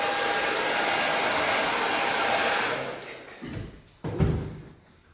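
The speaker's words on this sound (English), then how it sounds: "I'm just going to blow all the hair off." A hair dryer blows loudly and steadily on long hair during a layered haircut, its roar dropping away partway through, followed by a couple of soft handling thumps and bumps.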